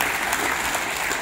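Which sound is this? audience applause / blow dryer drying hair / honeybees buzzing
audience applause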